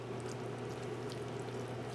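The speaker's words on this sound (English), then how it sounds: "we're going to add a little chicken broth" Chicken broth pours steadily into a pan of cooking food, a continuous close liquid splash and gurgle over a low kitchen hum, with no one talking.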